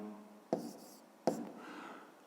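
Pen strokes scratching out arithmetic on paper for a fifth-grade math exercise, two quick brushing bursts spaced about a second apart, close and soft, with no talking.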